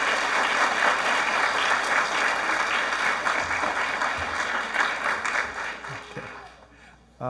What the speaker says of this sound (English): Could we have another round of applause